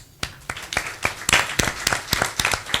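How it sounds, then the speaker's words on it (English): Sparse applause at a boxing press conference for Roy Jones vs Joe Calzaghe, a scattering of individual claps from a small group, irregular and distinct, building slightly over a few seconds without voices. "so I want to give them a round of applause."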